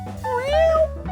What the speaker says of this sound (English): And I have my beautiful cat, Minnie.